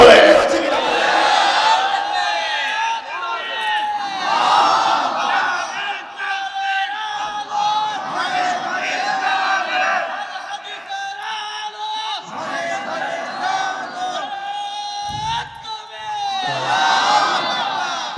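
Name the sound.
crowd chanting the Takbir slogan Allahu Akbar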